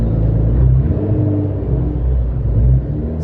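A tuned Nissan GT-R engine revs under throttle with a loud, steady low rumble that surges and dips slightly, heard up close on its own with no talking.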